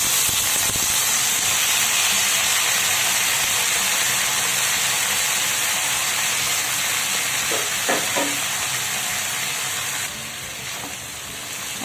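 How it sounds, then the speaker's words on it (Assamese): Drumsticks and potatoes sizzle in hot oil seasoned with black cumin, a loud, continuous hissing fry with a few faint clinks, easing slightly toward the end. "আৰু এতিয়া মই সজনা আলুখিনি একেলগে বহাই দিলোঁ।"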